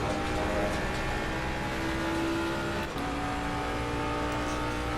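Race car engine in the sim racing game Assetto Corsa Competizione, a steady loud drone with a shifting pitch that holds through the whole stretch, with no talk over it.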